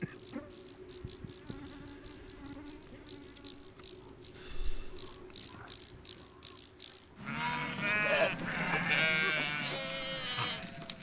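A large flock of sheep bleating in the Siberian taiga, scattered buzzing insects at first, then a dense chorus of overlapping bleats that swells loud and close.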